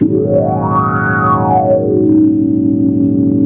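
A sustained organ preset tone from a Polymoog synthesizer, with a filter contour sweep rising and falling over a steady droning chord, continuous and close.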